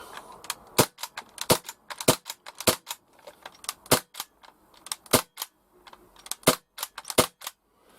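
Umarex H&K MP5K CO2 6mm airsoft gun firing many sharp, loud cracks close by, in uneven single shots and short bursts with brief pauses, and no talk over them.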